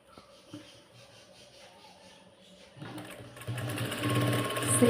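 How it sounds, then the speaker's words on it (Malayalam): Electric sewing machine stitching a blouse, starting with soft clicks and brief runs, then a steady whirring, rattling stitch that grows louder and continuous toward the end. "രണ്ട് സ്റ്റിച്ച് ഇട്ട് കൊടുക്കാം കേട്ടോ."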